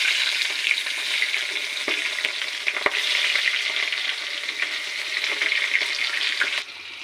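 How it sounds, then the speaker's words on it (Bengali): Two bay leaves and a medium onion fry in hot oil for a chicken curry, giving a close, continuous crackling sizzle with a few sharper pops and stirring scrapes that cuts to a quieter hiss at the end. "এখন আমি এই তেলের মধ্যে দুটো তেজপাতা আর একটা মাঝারি সাইজের পেঁয়াজ দিয়ে দিলাম।"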